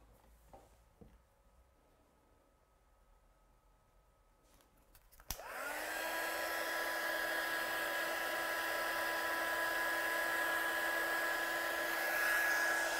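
Heat gun used to heat-set embossing powder on a handmade Christmas card switches on with a click after quiet and then blows with a loud, steady whining roar that holds to the end.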